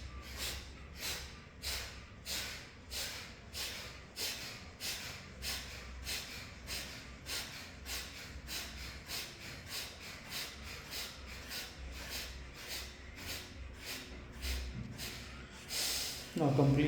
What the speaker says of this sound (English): Now start Kapalbhati.